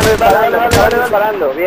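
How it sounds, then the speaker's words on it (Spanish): Rapid gunfire from an online multiplayer shooter during a team firefight crackles continuously under excited voices calling out positions, loud and near with bursts overlapping the chatter. "Cuidado, que me estaban disparando"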